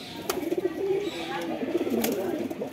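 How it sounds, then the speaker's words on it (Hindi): Domestic pigeons at a sale coo in soft, rolling, repeated calls, nearby and moderately loud, with a murmur of background activity. "ये कबूतर है गाइस"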